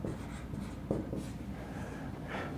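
Pen or marker strokes writing numbers on a board while working through an equation, with faint scratchy marks and a couple of firmer taps, quiet and close.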